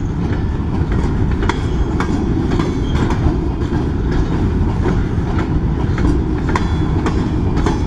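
A BNSF freight train with a long string of cars rolls past close by in East Kingsford, Michigan, a loud steady rumble with rhythmic clickety-clack of wheels over rail joints throughout.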